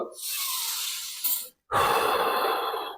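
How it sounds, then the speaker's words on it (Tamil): Breathing exercise during a guided relaxation: two loud, close airy exhalations through the nose or mouth, separated by a short silent pause, with no talking over them. "மூச்சு விடுங்க."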